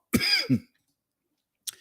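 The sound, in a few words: person coughing from allergies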